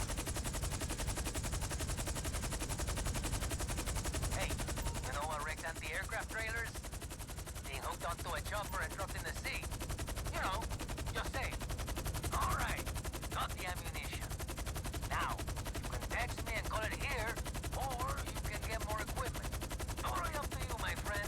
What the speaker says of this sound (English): try not to get blasted by their twin machine guns